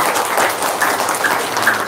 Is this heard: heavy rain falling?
no